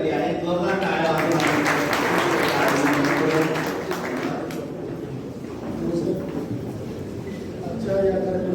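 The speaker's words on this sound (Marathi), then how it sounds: "जोरदार टाळ्या वाजवून" Audience applause at a college event, a broad burst of clapping from a seated crowd that swells and then eases, with a voice talking over and after it.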